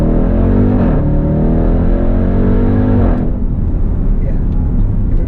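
A stock Jeep Trackhawk with a Hemi V8 accelerating hard under launch control, its loud engine climbing through the revs, briefly dropping at a gear change near the start, then climbing again and shifting once more, heard up close.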